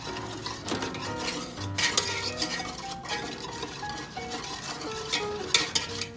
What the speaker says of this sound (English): now we just gotta stir this up a bit more